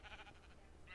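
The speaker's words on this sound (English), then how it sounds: "I heard the sheep" A sheep in a survival video game gives a short, quavering bleat, fairly faint and heard alone over a quiet background.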